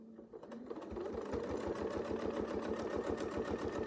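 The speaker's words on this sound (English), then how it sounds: "we'll just get started and we'll start sewing" A sewing machine stitches a quilt with a steady, rapid needle rhythm, close and alone after a brief start-up.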